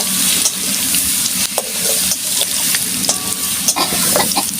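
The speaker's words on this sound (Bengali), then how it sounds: "আমার আলুগুলো ভাজা হয়ে গেছে" Potatoes frying in a pan with turmeric, Kashmiri chilli and salt, a loud close sizzle broken by repeated scraping and stirring clatters of a utensil against the pan.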